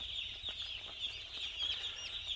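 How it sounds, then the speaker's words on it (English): Day-old chicks being unloaded in crates of 100 into poultry houses, a dense continuous chorus of high peeping chirps filling the space, with faint clucking and soft handling thumps underneath. "With each load of crate there, there's 100 chickens in each crate."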